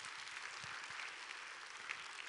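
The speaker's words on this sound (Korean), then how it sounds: "잠시 인사 말씀하실 때 여러분의 격려와 환영의 박수를 부탁드리겠습니다" Audience in a church applauds to welcome a guest at a choir concert, a steady, even clapping that carries on throughout at a very faint, distant level.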